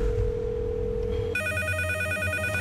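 An unanswered telephone rings in a steady repeating electronic trill that starts partway in and continues loudly to the end, over a low background hum.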